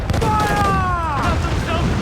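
Ship cannons firing a broadside in Assassin's Creed 4: Black Flag, a continuous low rumbling boom under shouted commands from the crew, with voices rising over the blasts throughout.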